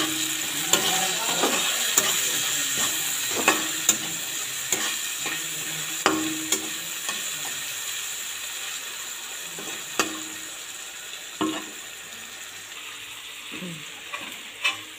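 Onions frying with salt in a pan, a steady sizzle punctuated by repeated scraping clicks of a utensil stirring against the pan, close and moderately loud.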